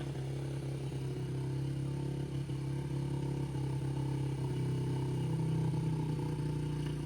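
Small Yamaha TTR50 motorcycle engine idling steadily with a low buzzing drone and light clatter, constant and unbroken, close by with no talk.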